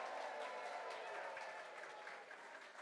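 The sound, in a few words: auction audience cheering and applauding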